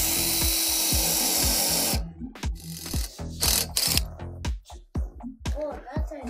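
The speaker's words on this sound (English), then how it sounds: "I think I might drill the other holes in the chassis" A power drill bites into the metal chassis of a drift mobility scooter build with a close, steady grinding whir, then gives way to a run of sharp, irregular mechanical clicks and ratcheting taps.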